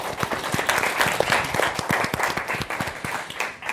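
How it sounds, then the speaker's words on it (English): Audience at a human rights panel on the global refugee crisis applauding hosts and panelists, a lively burst of many hands clapping at close range, sustained and then easing off slightly, with no talk over it. "Can we just get a quick round of applause?"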